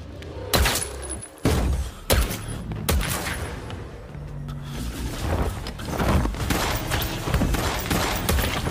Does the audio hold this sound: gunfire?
yes